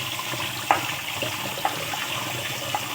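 Tap water runs steadily as wild mushrooms foraged from a Konkan forest are rinsed, a continuous hiss of flowing water with a few faint clinks of handling.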